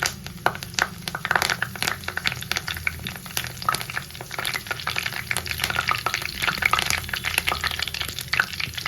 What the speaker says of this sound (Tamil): சோம்பு பொரிஞ்சு வந்ததும் கருவேப்பிலை சேர்த்துக்கலாம்